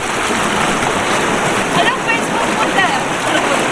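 Strong river current rushing at a waterfall crossing below the Ar-arbis curtain falls in Abra, a loud, steady, close wash of water filling the whole scene with no break.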